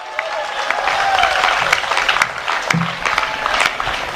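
An audience at a political speech in Bihar breaks into applause, a dense crackle of many hands clapping continuously for several seconds, moderately loud and a little distant, with faint crowd murmur underneath.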